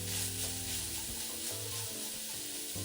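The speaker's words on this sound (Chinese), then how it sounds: "这时候就可以将油炸后豆干加入，拌炒一会就可以开始调味了。" Fried tofu being stir-fried in a pan for pumpkin rice dumpling filling, a constant crackling sizzle close up, with low humming tones underneath and occasional light stirring.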